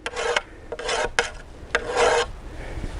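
A carbide Speedy Sharp scrapes along a steel garden hoe blade, making four or five close, harsh rasping strokes with brief pauses between them.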